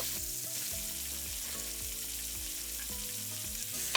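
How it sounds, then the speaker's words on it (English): Beef browns in batches in a pot, a steady dense sizzle of meat searing in hot fat, close and continuous, with faint background tones and no talking. "Now I'm gonna brown this in batches. And that is the sizzle that I want to hear."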